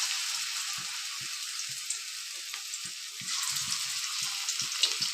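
Pakoras fry in hot oil with a steady bright sizzle and crackle, close and continuous, with soft low bubbling pops underneath.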